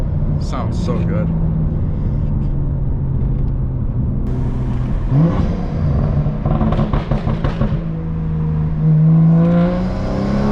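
A straight-piped BMW M2 accelerating on a country road, its engine droning low and rising in pitch as the throttle opens, heard from inside the car with people talking over it.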